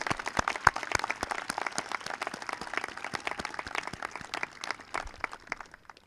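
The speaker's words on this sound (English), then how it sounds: "Let's give them a round of applause for their help during the school year." A modest audience at a 2021 school graduation claps, the sharp individual hand claps clearly separable in an uneven, sparse patter that tapers off near the end.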